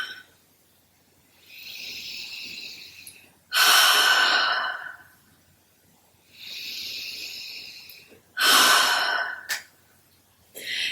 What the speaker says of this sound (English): Take some big inhales through your nose and exhales out through the mouth.